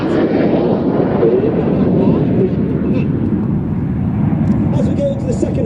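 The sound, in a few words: Red Arrows jets flying a display manoeuvre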